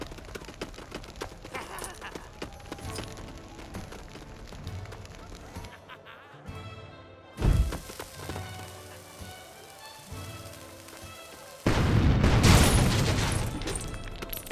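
A barrel of dynamite blown up with a torch in the Lego Pirates of the Caribbean video game, with a loud, sudden burst of crashing debris near the end over busy game music and effects.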